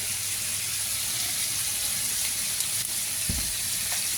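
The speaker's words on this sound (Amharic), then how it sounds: "ትንሽ ጠበስ እናደርገዋለን።" Meat frying in a pan, seasoned with salt and a little cumin, for a rice-and-meat laham mandi dish: a steady close sizzle throughout, with a brief stirring scrape near the end.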